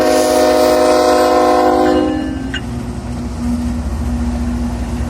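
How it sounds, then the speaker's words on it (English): A CN Rail mixed-unit train on the Preeceville Subdivision near Durban, Manitoba sounds a loud, sustained multi-tone horn for about two seconds, then rumbles steadily past with low rail noise alone. "watching a mixed-unit train as it makes its way to the main line"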